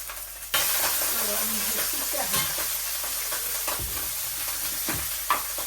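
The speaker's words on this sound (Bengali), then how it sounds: "আর এখানে যে মাছটা এখানে দিয়ে দিব আগে দিয়ে দিলাম ভাজা ভাজা হোক" Hilsa fish frying in hot oil with chopped onion and cumin: loud, continuous close sizzle and hiss, with scattered scrapes and clinks of a spatula, and no talk.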